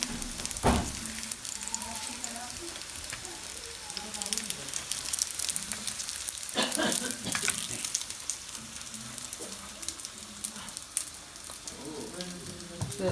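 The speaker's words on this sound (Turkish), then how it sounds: "köftelerimizi kızartsın" Steady frying sizzle with crackling pops as meatballs fry in a pan, close and continuous, while people talk quietly in the background.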